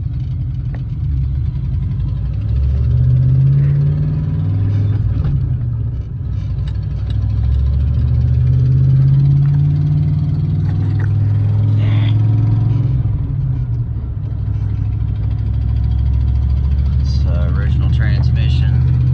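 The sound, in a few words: Ford OBS truck engine with lift cam, driving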